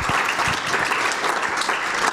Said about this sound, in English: Please, a Gresham round of applause.